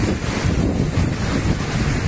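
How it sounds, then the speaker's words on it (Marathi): Athirappilly waterfall in Kerala roars as a dense, continuous rush of falling water, loud and broadband with wind buffeting the microphone and no voices. "आता मी आहे अथरापल्ली वॉटरफॉल, जो आहे केरळमध्ये"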